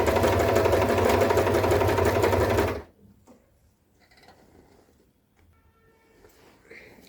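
A sewing machine runs steadily while stitching a suit collar, a loud continuous mechanical whir for about three seconds that stops abruptly, leaving quiet handling sounds.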